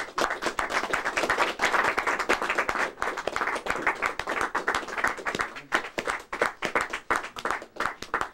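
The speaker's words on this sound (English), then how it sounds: "I think John deserves a round of applause" A small crowd at an evening reading in Avol's bookstore claps hard and fast for the featured reader, individual claps crisp and near, forming a steady, lively round that keeps going.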